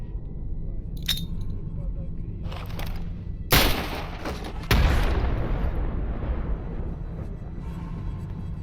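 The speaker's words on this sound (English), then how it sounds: "I'm gonna throw a grenade right there" In STALKER Anomaly, a thrown grenade goes off as two sharp, loud blasts a little over a second apart, with a rumbling decay after them. Before that come quieter clinks and shots, with some voice in the background.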